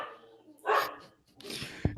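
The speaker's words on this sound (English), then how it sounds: "my dog is still making noise when I record" A dog barks and yips in short bursts near the microphone during a home podcast recording, with a brief loud yelp at the end and breathy background noise between calls.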